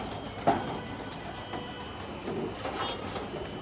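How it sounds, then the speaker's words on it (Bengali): Pigeons of several breeds in a home pigeon loft, faint soft cooing and murmuring at a moderate distance, with a sharper call early on and light rustling. "তা হচ্ছে বেশ কিছু কবুতর আছে বিভিন্ন জাতের"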